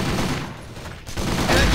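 Gunfire bursts in the CrossFire shooter game, a dense continuous fusillade of shots that stays loud throughout with a brief dip midway, no talk over it.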